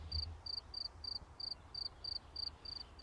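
Repeated cricket chirps from the video game We Become What We Behold, about ten short bright pulses at an even pace, clear and steady over a faint low background hum with no talk.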